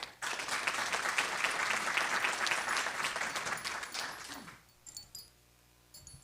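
Applause rises at a school board meeting, a room of people clapping for about four seconds before it tapers off, leaving faint clinks and rustles.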